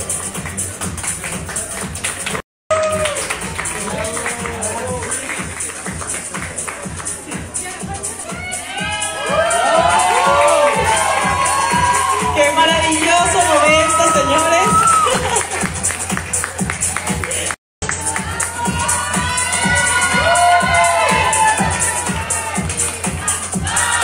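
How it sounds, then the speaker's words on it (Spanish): An audience cheers and applauds steadily at the Miss Grand Venezuela 2021 pageant. Whoops and shouts rise louder midway, and two brief dropouts break the sound. "disfruta tus aplausos"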